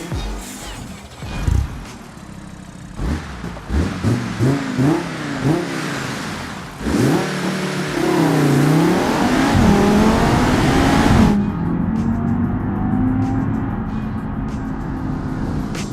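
An Audi 2.5 TFSI inline-five engine revs in a BeamNG.drive car, its pitch sweeping up and down in several rising pulls before settling into a steady, lower drone near the end.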